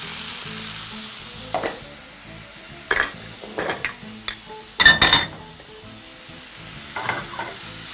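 Peas and chickpeas tumble into a frying pan that has mostly dried out while cooking chicken rice, giving a low steady sizzle broken by several sharp clinks and rattles of stirring, loudest in a cluster near the middle.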